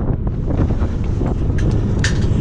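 Strong outdoor wind roars and buffets against the microphone while a tarp is pulled over a trailer, a loud continuous low rumble with faint flapping.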